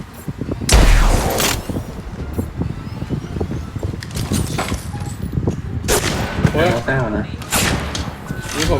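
Gunfire in the Apex Legends Mobile video game: sharp shot bursts and rapid volleys crack out in clusters, near and loud, with faint voices and game noise underneath.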